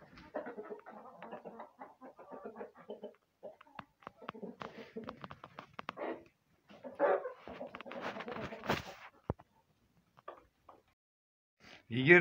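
Chickens and a rooster at a poultry keeper's flock in Atyrau, several birds clucking and squawking in irregular bursts close by, with louder calls around the middle and brief quiet gaps.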